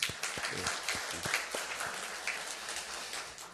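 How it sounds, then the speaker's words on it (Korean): A congregation applauds during a Sunday church service, a steady wash of many hands clapping at moderate distance, filling the room and holding throughout without letup. "우리 하나님께 영광의 박수 돌리겠습니다"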